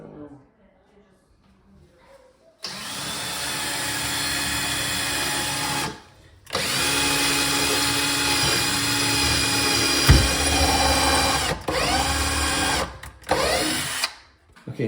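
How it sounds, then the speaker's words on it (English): A power drill bores holes into a wall for cabinet screws: two long, loud whining runs with a short pause between and a couple of brief stops near the end. A voice is heard briefly at the start. "now we got the holes drilled."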